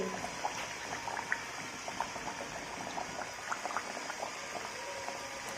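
Green pea kachoris deep-fry slowly in moderately hot oil over a low flame, a soft steady bubbling with small crackles and pops throughout, quiet and close with no talking.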